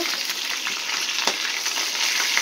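Hilsa fish fries in hot oil on a small gas stove, giving a dense, continuous sizzle and crackle that stays close and fairly loud, with faint scattered pops and no voices.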